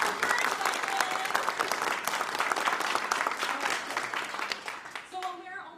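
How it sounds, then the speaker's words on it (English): A crowd of about 1,000 people at a live ideacity 2019 conference event claps loudly and steadily, dense applause filling the room before tapering off near the end. "I want it louder, so let's clap."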